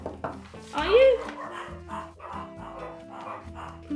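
Pet dogs in a home kitchen give a quick bark and some yips near the start, short and close, under steady talking and light rattling.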